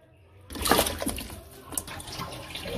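Small goat trotters dropped into about a litre of water in a pressure cooker with tomato, garlic and onion: a sudden splash and sloshing of water, then lingering swishing, close by and fairly quiet.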